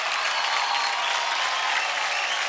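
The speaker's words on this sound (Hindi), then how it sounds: "तो चलिए फिर जोरदार तालियां हो जाए" Loud, steady audience applause at a televised children's dance competition show, a dense wash of clapping that fills the whole stretch without break.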